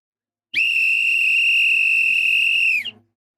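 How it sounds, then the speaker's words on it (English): A referee's whistle ends a football match, the 2026 FIFA World Cup opening game between Mexico and South Africa: one loud, steady blast held for about two and a half seconds, then cut off sharply over a low stadium murmur. "Go ahead and blow that whistle."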